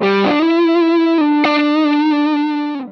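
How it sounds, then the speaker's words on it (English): A loud electric guitar rings through a Firehawk FX distortion effect set for a Red Hot Chili Peppers tone, holding a thick, buzzing sustained note with a slide and a fresh pick before fading out. "We'll see that we already have a distortion style effect set up here."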